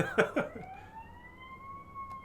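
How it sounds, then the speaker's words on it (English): An emergency vehicle siren wails from a streamer's real-world surroundings during an Elden Ring session, a single steady tone gliding slowly upward. A short burst of noise opens it, probably a cough, and the siren then holds moderately loud on its own. "Oh, sirens on our end."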